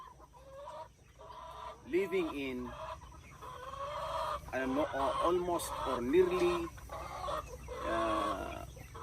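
Free-range chickens cluck and a rooster crows nearby on a small chicken range, the calls rising and falling throughout while a person talks over them.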